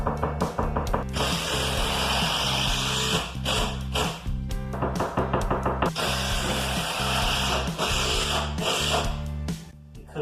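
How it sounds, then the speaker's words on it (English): A power tool drives a screw through a wooden shim during house addition work, giving several loud, whirring bursts in a stop-start rhythm with short pauses between runs. "I'm going to shim it out and screw it in."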